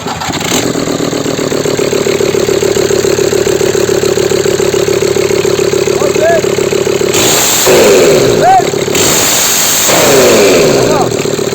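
Volkswagen Transporter T5 130 PS diesel engine being cranked and started, then idling steadily and loudly close by, with a few brief revs and mechanical whines over the running engine.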